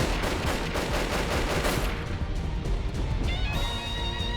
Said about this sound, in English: Bullets whizzed in both directions.